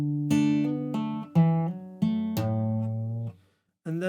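Acoustic guitar plays bar 10 of a song, a lesson phrase of plucked notes that ring out in several clear attacks, with a short silence before a final note, close and alone.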